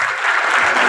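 Dense, loud applause from an audience at an academic excellence award function at a school, steady and close throughout the brief moment.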